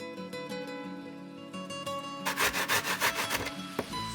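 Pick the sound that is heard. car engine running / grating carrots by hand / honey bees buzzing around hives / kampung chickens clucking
grating carrots by hand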